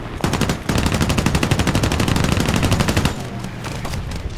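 Rapid bursts of machine-gun fire from a P-40F fighter's guns in an arcade air battle in War Thunder, a dense, loud rattle running for about three seconds before cutting to quieter engine drone.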